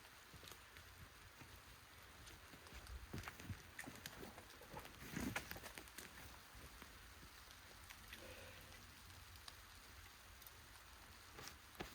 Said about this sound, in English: Here comes that rain we weren't supposed to be getting.